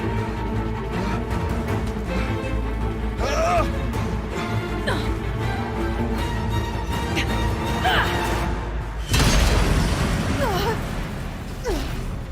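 Explosive ammo detonating in Horizon Zero Dawn, several loud booming bursts and crashes over dense game music and effects, with a big blast near the end.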